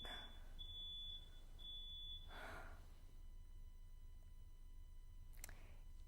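Chirping beeps from a smoke alarm, a few short electronic tones in a row, heard faintly over a steady background hum.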